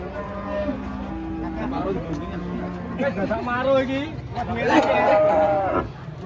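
Cattle unloaded from a truck moo repeatedly, several long, drawn-out calls rising and falling amid the chatter of people nearby, fairly close and clear.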